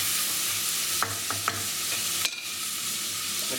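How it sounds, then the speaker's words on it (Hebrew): Onion fries with cooked chickpeas and green peas in a pan, a steady loud sizzle broken by several scraping stirs of a utensil, close up with no talking. "מערבב את זה ביחד, נותן לזה טיגון של 2-3 דקות."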